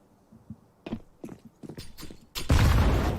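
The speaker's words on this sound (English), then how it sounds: "Oh, they blow the doors open." Doors blown open by an explosion in Counter-Strike on the Nuke map during a pro league match, preceded by a series of sharp footstep-like knocks and bangs, then a loud, sustained blast that fills the end of the clip.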